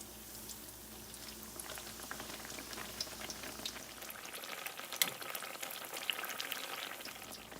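Besan naan pakoras frying in hot oil, a close, steady bubbling sizzle with small crackles and pops and no voices.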